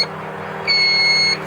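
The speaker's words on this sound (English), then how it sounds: "We'll flip the key on. It's probably gonna beep at us like no tomorrow," Livorsky gauges in a 2012 Sanger V237 LTZ boat emit a steady electronic beep when the key is switched on, a single sustained tone of about two-thirds of a second over a low idle hum.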